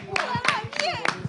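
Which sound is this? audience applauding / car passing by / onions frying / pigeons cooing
audience applauding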